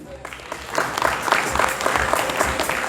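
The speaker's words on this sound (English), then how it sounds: "Would like to ask everybody to say thank you by giving a round of applause to the Way to Happiness Philippines Foundation." Round of applause from guests at a Marawi moral recovery gala dinner in the Philippines: steady, dense clapping from a crowded room that swells after a quiet start and keeps going throughout.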